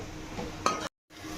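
Spoon stirring chili powder and garam masala into tomato curry in a pan with phool makhana, a few scraping clinks and a brief louder scrape, then a short silence.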